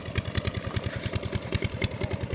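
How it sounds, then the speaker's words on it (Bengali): A motor-driven water pump in a carrot field chugs in a fast, even rhythm of engine pulses, moderately distant and steady throughout. "জমিতে জল নিচ্ছে এই মেশিন"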